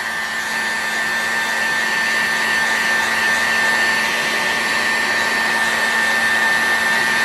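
A heat gun blows a steady, loud whir with a high whine while warming the front end of an Enya SS25BB model engine for bearing installation. The sound is continuous and unchanging, with no talk.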